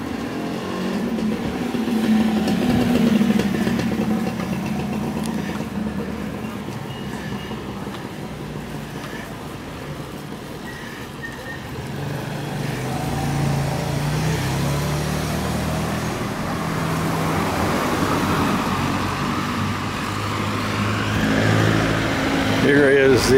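Busy street traffic in Thailand, with cars and motorcycles rumbling and revving past continuously, fairly close, while people talk intermittently over the road noise.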